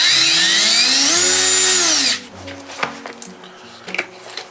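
A DeWalt cordless drill-driver from a combo kit runs loud and steady for about two seconds, its whine rising then falling as it spins down, followed by a few light clicks and handling knocks.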